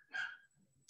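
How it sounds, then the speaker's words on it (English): A dog barks once in a home during an online meeting, a short faint bark followed by quiet and a brief sharp noise at the end. "Excuse my dog, someone, if you can hear it barking."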